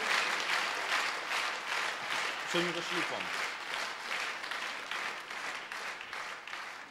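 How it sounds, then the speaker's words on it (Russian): Church congregation applauding, sustained dense clapping filling the room while a voice speaks briefly over it. "наши бурные, братья и сестры, аплодисменты"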